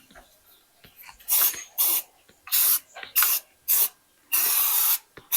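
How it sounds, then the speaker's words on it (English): Short bursts of aerosol rust remover spray hiss onto the underside of a 1968 Ford Mustang, one after another at an uneven pace with brief pauses between, close by and fairly loud. "we're continuing to spray that stuff on there"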